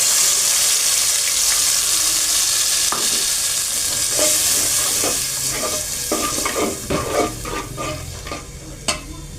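Spices fry with browned onions in a pan, giving a steady close sizzle broken by scraping stirs that grow more frequent and clattery toward the end; no one speaks.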